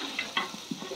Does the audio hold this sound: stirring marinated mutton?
yes